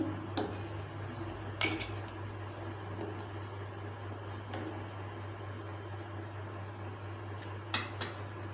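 Almonds and pistachios are stirred into milk simmering in a pot for rasmalai, with a few faint, scattered spoon clinks against metal over a steady low hum; no one speaks.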